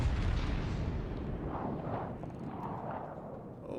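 Heavy naval guns fire in World of Warships Legends during a battle: a dense, continuous rumble of booming blasts and low roar, loud throughout with no clear gaps between shots.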